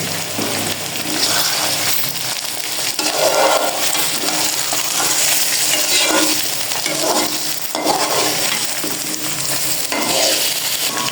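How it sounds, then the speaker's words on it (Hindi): Chicken frying with cauliflower in a pan, a continuous loud sizzle broken by repeated scraping and clinking as the pieces are stirred, close and without talk. "अब इसमें डालेंगे चिकन, ताकि ये भी साथ फ्राई हो जाए"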